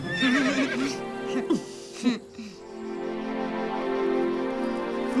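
A cartoon horse gives a high, wavering whinny near the start, followed by a couple of short snorting bursts; a voice and soft background tones continue underneath.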